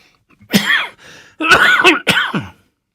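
Three or four harsh, throaty coughs from a solvent-irritated painter close to the microphone, a single burst followed by a quick pair, loud against near silence.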